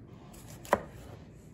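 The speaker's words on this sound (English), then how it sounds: "We just want to cut thin slices" A single crisp knife stroke through a round tomato into a thin slice, one short sharp chop standing out against a quiet room.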